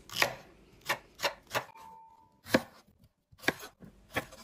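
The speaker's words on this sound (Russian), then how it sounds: "нарезать и сложить в чашу блендера фиолетовый лук, зубчики чеснока, огурцы без кожицы, стебель сельдерея и болгарский перец" Steady knife chopping of vegetables on a cutting board, about eight crisp thuds at an uneven rhythm, close by, with a faint tone briefly in the background.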